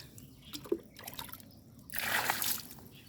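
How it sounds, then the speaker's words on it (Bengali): Water dripping and trickling while plants are watered in the morning, faint scattered drips giving way to a louder splashing pour near the end. "তো ভাবলাম সকাল সকাল গাছগুলোতে পানি দিয়ে তারপর নিচে নামি"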